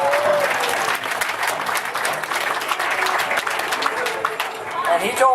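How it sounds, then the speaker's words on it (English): An audience gives a big round of applause as a young hoop dancer is brought out at a Native event: dense, loud, continuous clapping with cheers and whistles mixed in. "So let's bring this young man out with a great big round of applause."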